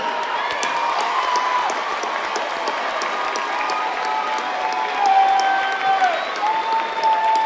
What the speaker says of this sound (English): Let's give ourselves a hand.